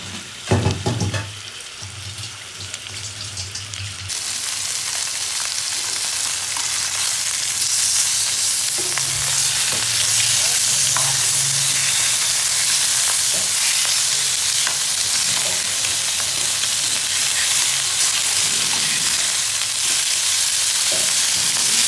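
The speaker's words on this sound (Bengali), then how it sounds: "মশলা কষানো হয়ে গেছে মাছগুলি দিয়ে দিচ্ছে" Spiced masala frying with fish in a pan gives a loud, steady sizzle that builds and holds, close, with faint stirring scrapes and no talk.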